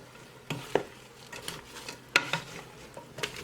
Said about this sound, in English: Now I'm going to let these vegetables simmer a little to get to soften